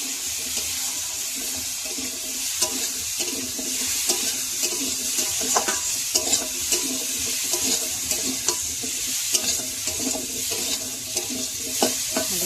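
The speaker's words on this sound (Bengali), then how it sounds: "লবণ আলু দিয়ে দিয়েছি, নাড়বো।" Salted potato pieces frying in a pan in a village kitchen, stirred with a utensil: a continuous hiss of sizzling oil broken by repeated scraping and clacking strokes, close and steady throughout.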